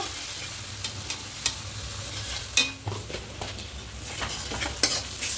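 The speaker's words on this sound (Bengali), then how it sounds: "এবার এখানে গুঁড়ো তুলে দেবো ধরিয়া গুঁড়ো জিরে গুঁড়ো লঙ্কার গুঁড়ো খুব ভালো করে মিশিয়ে নেব" Ground coriander, cumin and chili powder stirred into hot oil in a pan for a katla fish dish, with a continuous sizzle broken by sharp spoon scrapes and clinks against the pan, no talking.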